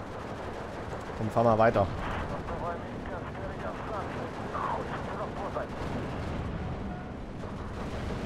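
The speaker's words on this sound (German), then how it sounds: "Da kommt schon Artillerie auf meine Panzer." Artillery shells land on tanks in the WWII strategy game Steel Division 2, Finland campaign, giving steady low rumbling impacts and battle noise, with a burst of louder crashes early on and someone speaking over it.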